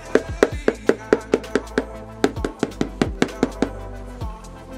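Knuckles rap on the underside of a freshly baked fougasse with lardons, onions and olives, making a rapid series of dry, hollow knocks in two bursts, close and crisp.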